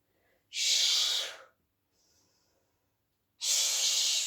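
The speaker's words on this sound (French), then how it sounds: "Je souffle, j'inspire." Two strong, breathy exhalations come through as forceful hissing blows during a Pilates routine, with a faint inhale between them and no talking.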